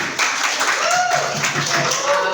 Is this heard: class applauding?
yes